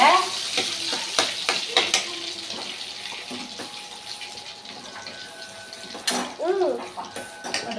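A mixture containing almond powder stirred in a hot pan as it sizzles and spits, with close scraping and clattering stir strokes over a steady frying hiss and a voice speaking briefly.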